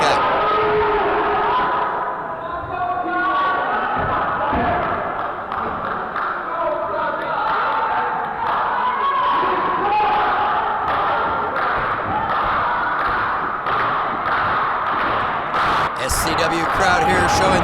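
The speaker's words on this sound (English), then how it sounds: "SCW crowd here showing their love for Spyder and trying to will him back into this" Crowd at an SCW wrestling show roars and cheers continuously for wrestler Spyder, loud and dense, with thuds from the ring and a commentator talking over it.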